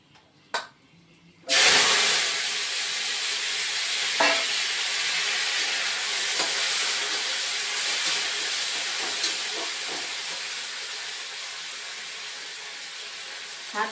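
Beans, potato and eggplant are dropped into hot oil in a pan and burst into a loud, steady sizzle that hisses on throughout, with a few soft stirring clicks under it.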